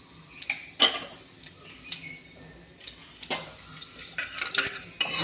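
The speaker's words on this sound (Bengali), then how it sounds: "আর কিছু জিরে ফোড়ন দিলাম।" Bay leaf and cumin seeds crackle and sizzle in hot oil in a wok, with scattered sharp pops and clinks of a utensil against the pan over a low frying hiss, close and fairly quiet.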